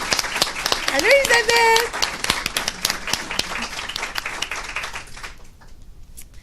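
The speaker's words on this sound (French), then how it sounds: "Est-ce qu'on peut les applaudir" A studio audience on a French-language telethon show applauds, scattered clapping mixed with lively talk and a shout, fading out near the end.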